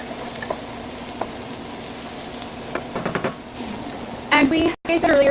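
Ladyfingers, potato and onions stir-frying in mustard oil give a steady close sizzle under scraping stirs, with a few louder clatters near the end.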